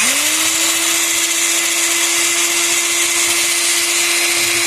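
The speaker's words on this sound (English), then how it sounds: "go ahead and drill it out" A power drill whirs up to speed, drilling a hole in a Force 120 hp outboard motor during anode replacement, holding a steady, loud, high-pitched drone without pause, with no talking.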